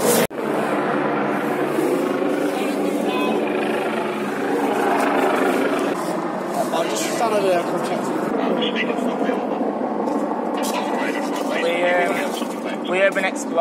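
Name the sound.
police helicopter circling overhead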